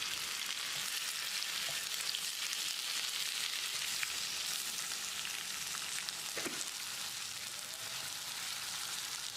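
Steady, close sizzling of tomatoes sautéing in a hot pan, with a faint clink of stirring partway through.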